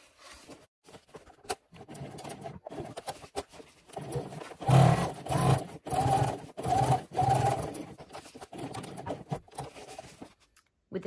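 A sewing machine top stitches a fully lined boxy bag in several short bursts of moderate loudness, separated by brief pauses, with a quieter stretch of stitching at the start.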